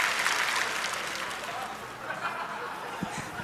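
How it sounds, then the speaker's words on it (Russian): Audience applause for a Miss Russia 2010 contestant from Yekaterinburg at a beauty pageant, a steady wash of clapping from a crowd with some chuckles and voices mixed in. "Аплодисменты нашей красавице из Екатеринбурга"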